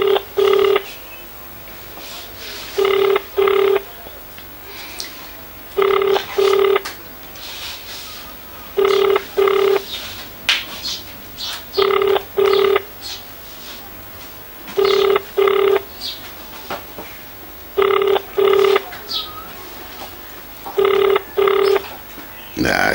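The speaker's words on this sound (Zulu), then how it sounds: "sisazama ukumfonela" A telephone call rings out unanswered: paired ringback tones repeat in a steady pattern roughly every three seconds, clear and loud, with faint room noise between the rings.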